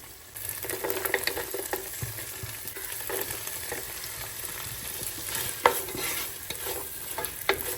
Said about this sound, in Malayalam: ഇതെല്ലാം ചേർത്ത് നല്ല ഹൈ ഫ്ലെയിമിൽ വെച്ചിട്ട് നന്നായിട്ടൊന്ന് വായിച്ചെടുക്കാം